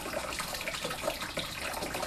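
Hot water running steadily from a tap in a South African township home, a continuous soft splashing and hiss with no voices.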